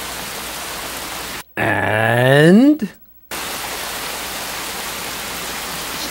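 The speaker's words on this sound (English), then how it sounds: "Still raining." A rain sound effect hisses steadily as broadband noise, cut briefly by a speaking voice with a drawn-out vocal groan before the rainfall resumes alone.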